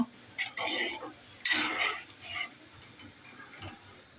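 Stirring a pot of beef curry with chickpea lentils, with a few clattering scrapes and clinks of a spoon against the pot in the first two seconds, then quieter faint stirring.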